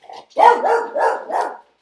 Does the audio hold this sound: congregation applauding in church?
no